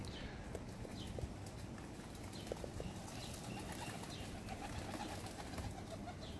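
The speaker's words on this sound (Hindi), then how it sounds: "बहुत ज़्यादा तादाद में कबूतर, उसके अलावा डिफरेंट बर्ड्स, चिड़ियाँ" A large flock of pigeons and other small birds feeding on scattered rice outdoors in New Jersey, with steady pecking, scuffling and occasional wing flaps and coos over constant busy background noise.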